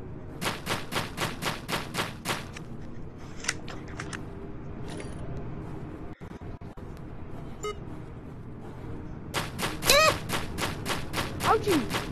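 A shotgun fires in a Gorilla Tag knock-off VR game as a rapid string of sharp blasts at the start and again near the end, with a player talking over the game sounds.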